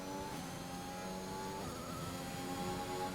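A race car in a racing game lapping the Imola circuit, its engine droning at a high steady pitch with a shift in tone partway through, continuous and moderately close.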